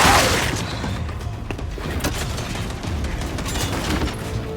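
Heavy gunfire and booming impacts from snipers in the video game Gears of War 5 clatter in a dense, echoing barrage during a battle, a loud blast opening the stretch before repeated crackling shots continue.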